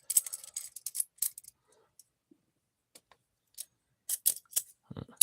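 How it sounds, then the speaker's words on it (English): Metal chains clink and rattle as they are bound and tightened, several bursts of short jingling clicks with pauses between and a brief voice near the end. "So we're gonna do a little chain binding first."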